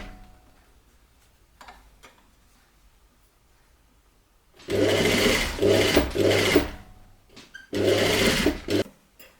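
A sewing machine runs in two bursts, stitching a tailored suit collar: a steady mechanical whir of rapid needle strokes, close and fairly loud, with a short pause between runs and quiet handling before.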